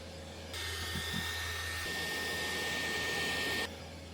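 Vacuum cleaner switching on and running for about three seconds as a steady whining hum at moderate distance, then cutting off, with no talk.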